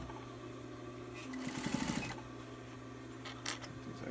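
A sewing machine top-stitching fabric on a six-panel cap runs in one short, faint burst of rapid stitching, with quiet handling noise before and after.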